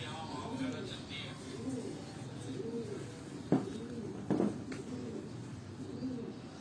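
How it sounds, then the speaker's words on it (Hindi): Migratory pigeons on a rooftop coo in repeated soft rolling calls, fairly near and steady, broken by a couple of brief sharp knocks or flaps. "ये सारे प्रवासी कबूतर हैं दोस्तों"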